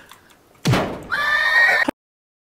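A person imitates a horse neighing: a loud, close, breathy snort-like burst followed by a sustained, wavering whinny that cuts off sharply, with no other sound.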